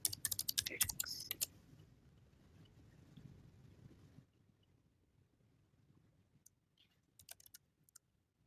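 Code is typed on a computer keyboard in quick, close clicking bursts at the start, then a long quiet pause, then a few scattered keystrokes near the end.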